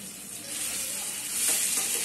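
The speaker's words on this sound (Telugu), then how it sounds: "ఈ పచ్చడిని కూడా పోపులో వేసుకోవాలి" Ground herb chutney of curry, coriander and mint leaves tipped into a sizzling tempering in a pan and stirred, with a steady frying hiss and scraping strokes that swell toward the end, close and without talk.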